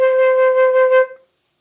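A flute sounds a single sustained middle C, held for about a second with gentle vibrato before cutting off cleanly into silence.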